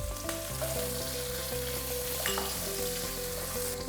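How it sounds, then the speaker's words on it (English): Ginger and onions sizzle loudly in hot oil with popping cumin and mustard seeds, a continuous close frying hiss with faint stirring. "Once they start to pop, I'm gonna add my ginger and onions"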